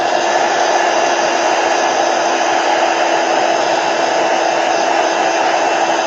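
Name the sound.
heat tool heat setting paint on a craft project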